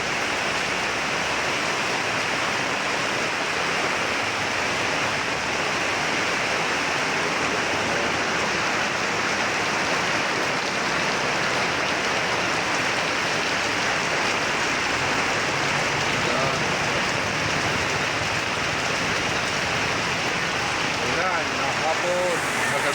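Rain falls in a steady, dense hiss that stays constant and loud throughout, with no breaks or distinct drops standing out.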